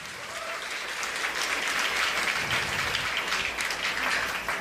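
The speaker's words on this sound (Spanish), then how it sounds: "Dale un fuerte aplauso al Rey de Reyes" A church congregation breaks into loud applause during a worship celebration, a thick continuous roar of many hands clapping that swells slightly and holds steady throughout.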